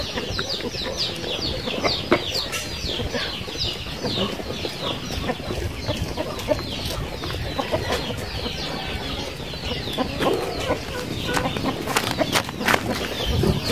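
Flock of large farm chickens clucking steadily and busily at close range ahead of feeding, a dense continuous chorus with occasional louder squawks and rustling throughout.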